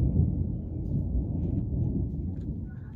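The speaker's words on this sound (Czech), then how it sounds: "Slyšíte? Tak hřmí" A low, rolling rumble of thunder, fairly faint and distant, lasting a few seconds with no voices.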